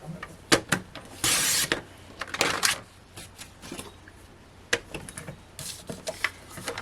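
Printed cardstock being cut to size for handmade cards, a few short bursts of blade scraping and sliding along with rustling paper and small taps, close and quiet, with no talking.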